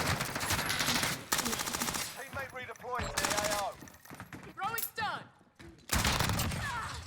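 Bursts of MP5 submachine gun hipfire in the Warzone video game, rapid automatic volleys broken by short pauses, loud and close, with a voice talking between the bursts.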